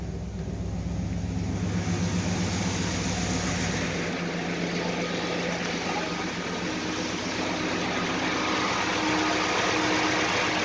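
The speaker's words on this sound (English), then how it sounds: "now we're like idling super high, so let's go crank her down on the throttle arm" A loud 5.7 Hemi engine running at a fast, steady idle after an intake manifold installation, droning evenly throughout with no voices.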